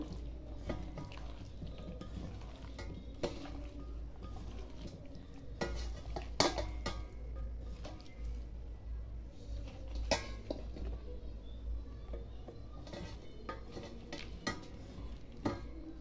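Chicken and vegetables being mixed together in a bowl for a Bengali-style chicken sauté, with steady stirring and squelching plus occasional sharp clinks of a utensil against the bowl, close and moderately quiet.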